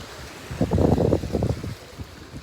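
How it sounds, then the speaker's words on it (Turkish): A single sea wave washes onto the Güvercinlik shore, a soft low whooshing surge that rises and fades over about two seconds, with light wind noise around it. "Dalganın sesi"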